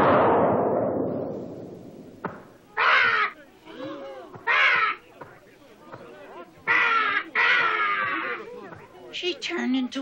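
A crow in a scene from Henson's The Frog Prince caws harshly several times in uneven bursts, after an opening descending whoosh, with fainter rasping sounds between the loud caws.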